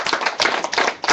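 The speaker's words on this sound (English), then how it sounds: "it deserves a round of applause" An audience at a live MOU signing event claps together in steady, dense applause. It is loud and continuous over the whole short stretch.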